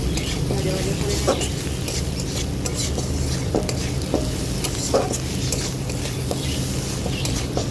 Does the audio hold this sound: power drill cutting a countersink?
no